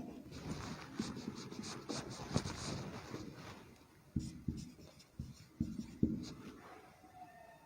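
Marker or chalk strokes on a classroom board, a run of short scratchy scrapes and taps at close range, irregular in rhythm, with no voice over them.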